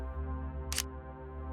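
A single crisp camera shutter release clicks once, close and clear, over a low steady outdoor hum during mountain sunset photography in the North Cascades.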